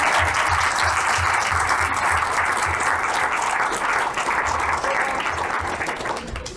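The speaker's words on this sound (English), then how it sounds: "Big clap." An audience at a youth speaking event gives sustained applause, a loud, dense and continuous roar of clapping from many hands that holds steady before tapering slightly.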